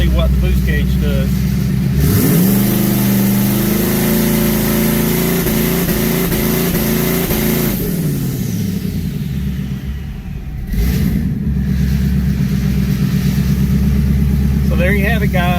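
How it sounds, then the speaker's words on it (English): A 2019 twin-turbo Mustang revving on launch control with the throttle floored: a loud, sustained engine roar that climbs, holds near the limiter, drops back to a lower rumble, then rises again. "I'll just simply stab the throttle to the floor, and you'll see what the boost gauge does."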